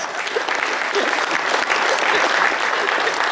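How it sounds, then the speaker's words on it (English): Loud, dense applause from a banquet audience at a chamber of commerce event, cheering a volunteer back from a roller coaster routine, sustained evenly throughout. "give her a big round of applause"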